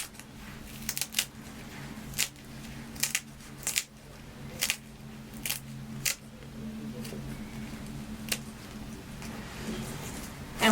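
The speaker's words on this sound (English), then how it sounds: "I'm just going to now trim this bottom piece." Scissors trim ribbon on a bridal jadai veni garland with petals, giving a run of small crisp snips and clicks at irregular intervals, close and quiet, without speech.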